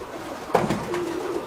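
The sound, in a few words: local domestic pigeons cooing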